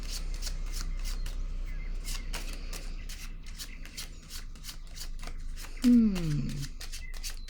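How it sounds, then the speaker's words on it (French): Tarot cards handled and shuffled during a card reading, soft repeated riffling and snapping flicks throughout at moderate level, with a voice speaking over them and a brief louder rise near the end. "Je vais déposer une carte sur elle."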